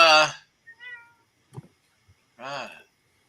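A cat meows indoors, a couple of short mid-pitched calls between bursts of a person's voice, close and fairly clear.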